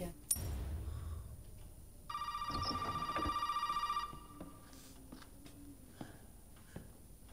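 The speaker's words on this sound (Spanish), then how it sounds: "Otra vez el teléfono." An old-style telephone bell rings in the Resident Evil 7 horror video game as one burst of about two seconds, then drops away into quiet ambience with faint clicks and knocks.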